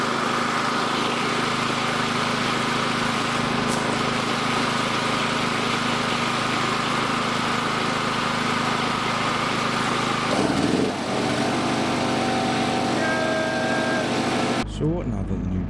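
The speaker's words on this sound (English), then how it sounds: "now that the new generator is running" Generator running steadily in a workshop during an IS200 car build, a constant mid-level engine hum with a shift in tone near the end as other noises intrude, heard near and without clear talk.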